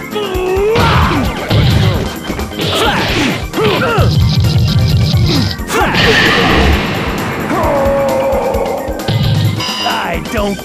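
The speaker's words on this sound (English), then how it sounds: "Corkscrew blow!" A corkscrew blow punch landing in the boxing video game Orenshin, with heavy smashing impacts and whooshing effects among busy game sounds and shouted voices.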